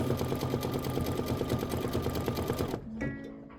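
A sewing machine stitches a design at speed with a dense, steady mechanical whir close by, then cuts out abruptly and leaves a few faint clicks.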